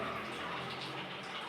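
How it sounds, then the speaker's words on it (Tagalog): Water pours steadily into a pet's food bowl, a continuous soft splashing gush at moderate level with no breaks. "Lagyan pa natin yung tubig."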